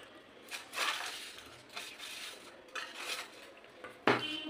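Chopped candied fruit, cashews and raisins tipped into a pot of suji cake batter, with quiet clinks of a spoon and bowl in short bursts and a sharper knock near the end, fairly faint and without speech.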